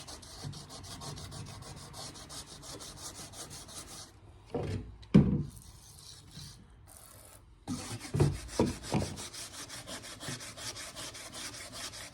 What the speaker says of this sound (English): That's just a sanding block.